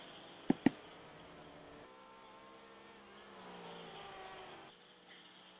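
Racing car engines in a sim racing game, a McLaren among them, a faint steady harmonic drone rising and falling in pitch, preceded by two sharp clicks.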